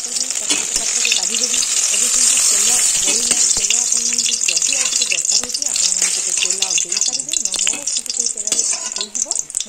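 Bay leaf and tempering spices crackle and splutter in hot oil for a vegetable curry, a loud continuous close sizzle with scraping stir noises and a voice talking over it.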